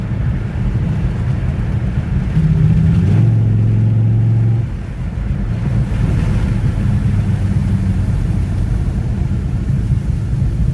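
A Volvo S60R engine idles roughly on old gasoline, a steady low rumble with a brief rise in pitch and volume partway through, close and continuous with no voices.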